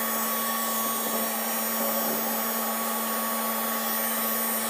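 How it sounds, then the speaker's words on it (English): Heat gun blowing hot air over sticky film, a steady broadband whoosh with a constant motor hum holding evenly throughout, close and alone without talk. "I'd run it over like that over the heat gun, and just push it down and smooth it over."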